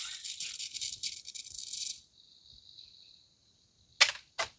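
A spinning irrigation sprinkler sprays water with a rapid, rattling chatter for about two seconds, then drops to a faint hiss, followed by two short sharp bursts near the end.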